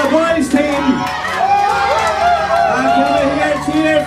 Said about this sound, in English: Can we hear a big cheer for the boys team?